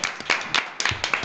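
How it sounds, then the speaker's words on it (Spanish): Studio audience applauding a guest on a Spanish TV talk show; a brief, moderate burst of separate hand claps in an uneven rhythm, without voices. "Es Javier de Miguel, un aplauso."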